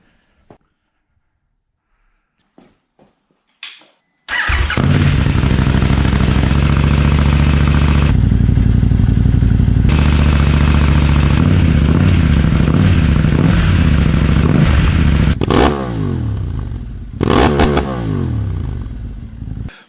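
A motorcycle engine fitted with a Dominator slip-on exhaust and dB killer starts after a few clicks, then idles loud and close with throaty blips of revving near the end.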